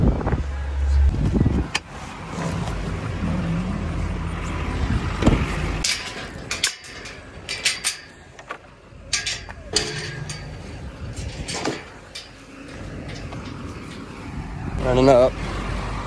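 A pickup truck with grain loaded in the back drives on a rural farm track, giving a steady engine and road rumble with jolts and rattles, while people talk over it.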